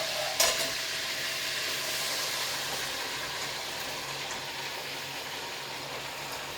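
Cabbage sizzling on butter in a pot, a steady soft hiss of frying that starts with a short clatter as it goes in, then settles into an even crackle for several seconds.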